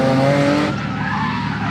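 A BMW E36 drifts with loud, close tire squeal and engine roar, a sustained screech shifting pitch partway through the burst.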